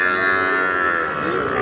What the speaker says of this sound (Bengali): ছোট্ট একটি ষাঁড় বাচ্চা দেখছি।